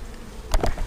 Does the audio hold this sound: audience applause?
no